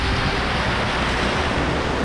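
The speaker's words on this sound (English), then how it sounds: "the tide is coming in and the waves feel like they're getting a little bit stronger" Ocean waves roll in and break against a rock shelf beside an ocean pool on Sydney's eastern suburbs coast as the tide rises, a loud, steady wash of surf with no distinct pauses.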